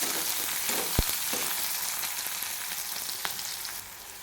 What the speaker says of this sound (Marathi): हा कांदा आपल्याला छान असा सोनेरी रंग येईपर्यंत मस्त परतून घ्यायचा आहे